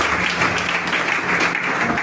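A church congregation claps together in acclaim of Jesus, a dense, continuous wash of applause filling the room without a break.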